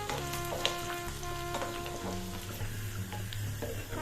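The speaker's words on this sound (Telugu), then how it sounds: "జీడిపప్పు ఎర్రగా వచ్చేదాకా పప్పు వేయించుకోవాలండి" Cashews, cumin and green chillies frying in hot fat for pongal, a steady close sizzle with light crackling pops and occasional stirring taps.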